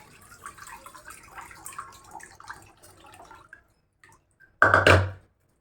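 Rice washed in water in a new iron wok, soft trickling and dripping swishes followed by a short loud splash of water being poured, no voices.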